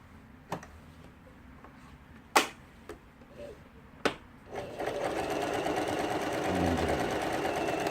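A Lion Indigo sewing machine under function testing after repair, with a few sharp clicks and knocks before the motor starts and stitches steadily at close range, growing slightly louder.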